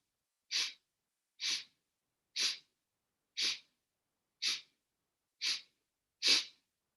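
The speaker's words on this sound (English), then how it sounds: "inhale in 8 sniffs" Seven short, sharp nasal sniffs come at a steady pace about one per second, close and clear, during a Kundalini yoga breathing exercise for anxiety, with silence between each.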